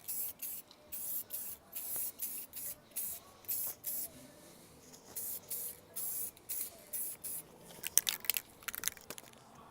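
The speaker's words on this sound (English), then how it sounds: "I applied the clear coat on the second wheel" Spray can or gun hissing clear coat onto a car wheel in short, evenly spaced bursts about half a second each, close and crisp, with a few small clicks near the end.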